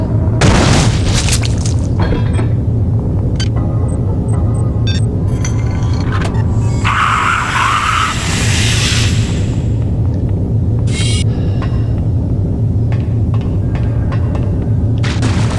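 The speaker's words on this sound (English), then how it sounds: "very good use of anti-personnel rounds to fire them at a metal object" Anti-personnel rounds from a System Shock 2 weapon are fired at a metal object, giving a heavy, booming rumble throughout with several sharp cracks and metallic clinks, and a brief hissing burst near the middle.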